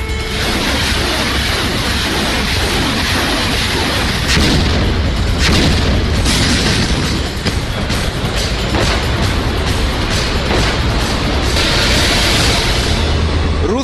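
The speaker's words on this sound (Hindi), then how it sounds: "यूक्रेन के रिहायशी इलाकों में भी रूस जमकर बम बरसा रहा है" Explosions from Russian air strikes on Ukraine: a loud, sustained roar with repeated heavy booms and bursts, dense and unbroken throughout, with no speech.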